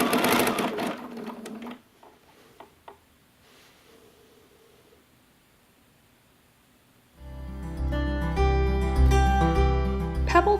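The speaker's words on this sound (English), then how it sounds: "Pebble quilting is a fun, free motion technique." Domestic sewing machine stitching free-motion pebble quilting, little circles traced two or three times; a steady close whirring run starts partway through after a quieter stretch of faint handling noise, with louder material at the opening.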